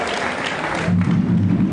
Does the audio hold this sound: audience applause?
yes